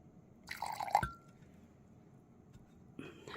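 Water is poured into a glue mix in a short, close splash with a light clink of a container, then quiet, then another brief pour.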